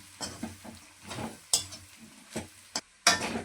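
Spatula scraping and stirring mutton fry with chili powder in a pan: irregular scrapes and clinks over a soft sizzle, with a few sharper metallic knocks, close and fairly quiet, no talking.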